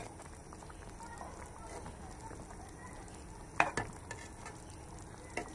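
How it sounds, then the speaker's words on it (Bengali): Mutton chaap pieces are turned one by one in a pan over a low flame, giving a soft, quiet sizzle broken by a sharp utensil clank and a few light scrapes. "দেখুন, এইভাবে প্রত্যেকটি মাংসকে আমি পাল্টে দেব।"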